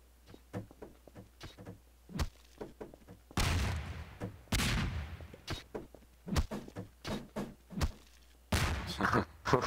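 Loud, broadband blasts of melon bombs detonating in Garry's Mod, two big bursts near the middle and another near the end, set among many short thuds and knocks.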